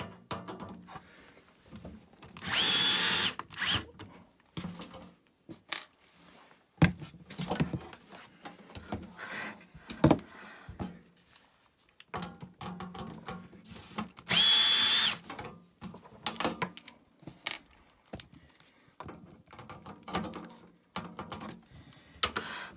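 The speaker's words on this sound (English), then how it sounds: "Maybe it's a bit overkill, but it's quicker, isn't it? Using a power screwdriver." A power screwdriver removing screws from a Sony JE470 MiniDisc deck, several loud whirring bursts of a few seconds each, separated by quieter handling clicks and rattles, close and with no talk.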